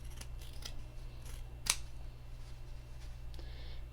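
A single crisp snip of scissors trimming excess quilt fabric from a seam, close and clear against a low steady hum.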